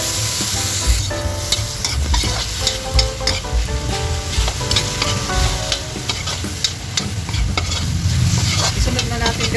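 Garlic, leeks and tomatoes fry in a pan for a chicken liver menudo, with a steady loud sizzle and repeated scraping stirs throughout, no voices.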